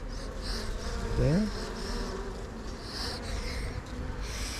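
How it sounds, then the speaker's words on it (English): Honeybees buzz steadily around a beekeeper at an open hive, a low droning hum close by, with one brief spoken word. "A couple of bees landing on me at the moment, which is to be expected."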